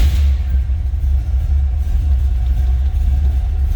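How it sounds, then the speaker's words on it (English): A 350 small-block V8 in a 1972 Chevrolet Chevelle idles with a deep, steady, throaty rumble heard up close and continuously, with no other sounds. "Nice throaty exhaust note."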